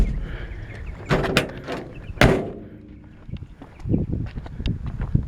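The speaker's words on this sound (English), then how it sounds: "and close this door." The door of a 1949 Chevrolet 3100 five-window pickup truck swings and shuts with a heavy metallic clunk, followed by softer knocks and rattles from the body, close by.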